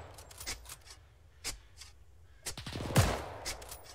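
Scattered World War II-era gunfire in ArmA 3, with sporadic single shots and short bursts at varying distances and a louder, closer crack near the end, with no talking.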